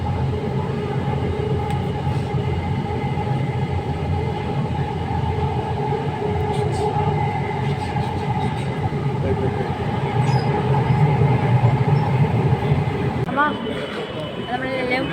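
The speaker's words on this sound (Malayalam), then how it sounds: "നമ്മളെല്ലാം ട്രെയിനിൽ എത്തി ട്രെയിൻ ഇറങ്ങി." A Bangalore metro train carries its passengers with a loud, steady rumble and rolling rail noise that holds for the whole stretch, while voices talk over it.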